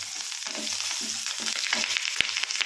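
Chopped green chillies fry in a hot pan for a paneer masala, a close, steady crackling sizzle with brief stirring scrapes and one sharp click near the end.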